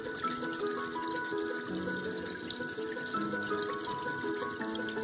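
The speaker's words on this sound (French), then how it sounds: "Puis là, je vais mettre de l'eau." Water pours steadily onto a waterproof Bluetooth speaker, a continuous trickling splash at close range that runs unbroken for several seconds while the speaker keeps playing tonal sound underneath.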